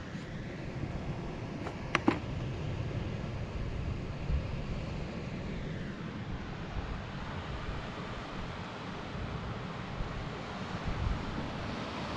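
Sea waves wash onto the shore at a seaside campsite, a steady broad roar mixed with gusty wind rumbling on the microphone, continuous throughout with a couple of brief clicks near the start.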